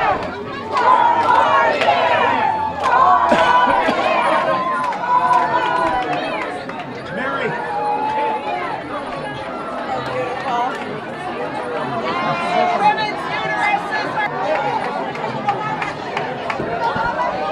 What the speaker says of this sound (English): Looks like Obama's being carried through the crowd here at Marin Democratic Headquarters